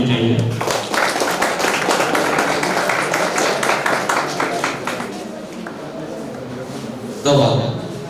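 An audience claps during a Teachers' Day award ceremony in India, a dense, sustained patter of many hands that fades and thins toward the end before a brief louder burst.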